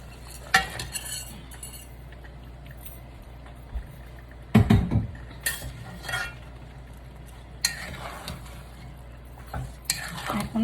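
Chunks of beef being stirred into fried spice masala for a beef biryani, with scattered clinks and scrapes of a spoon against the pot over a quiet background hum.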